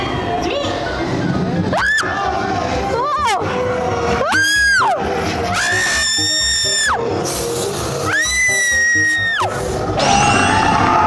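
Riders scream and shriek on a Harry Potter-themed ride at Universal Studios Japan, with long, loud, high-pitched screams in several bursts over rumbling ride noise and crowd commotion.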